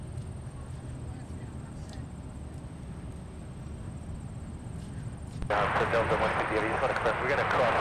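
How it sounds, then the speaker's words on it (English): A Boeing 737 BBJ jet from Equatorial Guinea lands on runway 30 left at Minneapolis–Saint Paul airport. A faint distant jet rumble sits under talk, then swells abruptly into a louder, nearer roar partway through. "the Equatorial Guinea 737 BBJ is next to land at runway 30 left"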